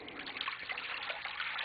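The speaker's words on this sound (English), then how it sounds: "add some water." Cold water being poured into a bowl to prepare kava, a steady, soft splashing trickle that runs continuously at low volume, close by and with no talking.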